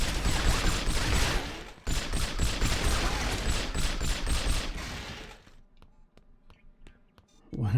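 Dense, loud gunfire bursts from the GameCube James Bond game From Russia with Love fill the first five seconds with a brief break, then drop to quiet game ambience before a short burst returns at the end.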